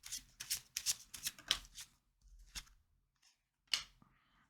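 Lenormand cards are shuffled for a reading, a quick run of crisp riffling bursts up close, then a pause and a couple of single flicks, with no talk.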